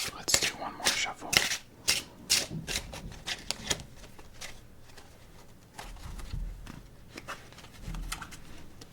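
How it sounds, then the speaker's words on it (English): A deck of playing cards is shuffled by hand in a quiet room, a series of crisp riffling bursts and flicks in the first seconds, followed by softer taps and card handling, close and clear. "Let's do one more shuffle."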